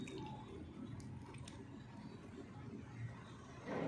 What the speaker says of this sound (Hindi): तो इस तरह से अदरक हमें पॉट में लगा के और उसे अच्छे से पानी दे देना है।